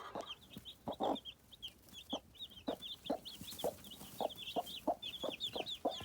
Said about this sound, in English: I better feed these angry chickens before I get eaten for breakfast.